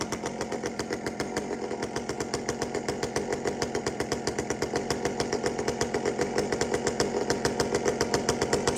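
A chainsaw engine idles steadily while being tuned, its low-jet setting under adjustment, giving an even, rhythmic putter at close range that grows slightly louder over its length with no voices.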